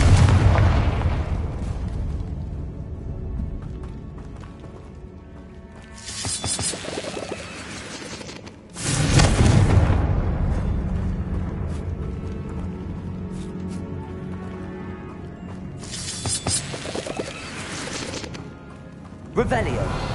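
Confringo blasting curse explosions in Hogwarts Legacy, three separate loud bursts with decaying rumbling tails spread across the clip, ending with a fourth blast.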